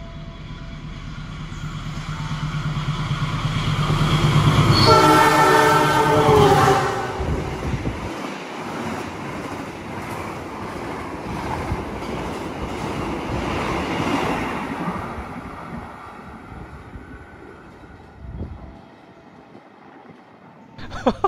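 An Argo Muria express train speeds past while overtaking another train, a loud rushing roar with rattling wheels that peaks, then fades into steady rail rumble, with faint voices underneath.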